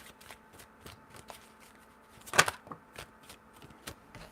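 Tarot cards handled and shuffled close up, a quiet series of light irregular taps and flicks with one sharper snap near the middle; no voices.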